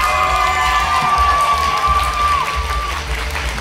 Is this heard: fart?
no